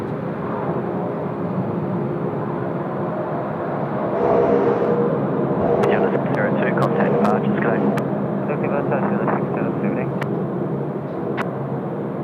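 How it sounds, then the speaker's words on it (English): An Asiana airliner takes off in a crosswind at Sydney Airport, with a continuous engine roar that swells slightly midway while a voice talks over it. "A little bit of a crosswind as they sort of get off the deck."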